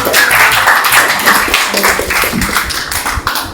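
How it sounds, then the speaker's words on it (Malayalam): Birthday party crowd for a daughter clapping loudly and continuously, dense close hand claps throughout with no voices over them. "ഒരു കൈയടി പ്ലീസ്"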